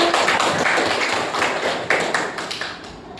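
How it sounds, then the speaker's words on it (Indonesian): Children clap their hands together in a classroom, a dense, steady patter of many small hands filling the room for a few seconds with no talk over it. "Oke, tepuk tangan anak-anak."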